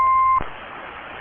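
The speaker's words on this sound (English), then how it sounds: "My router beeps on." A home router giving one clear electronic beep, a steady tone held for under half a second, then quiet hum with a brief click at the end.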